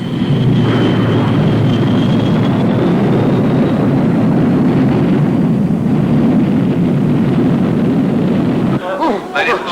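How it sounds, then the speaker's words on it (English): Aircraft jet engines starting up make a loud, dense roar with a rising whine that holds steady and then cuts off abruptly near the end, leaving brief quieter rumbling. "Engine 4 running, sir, starting 3"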